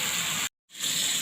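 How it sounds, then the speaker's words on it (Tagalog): Water pours steadily into a pan for pancit bihon guisado, a broad rushing gush that cuts out briefly midway, then resumes at full strength. "nalagay na natin ang sabaw, ang tubig"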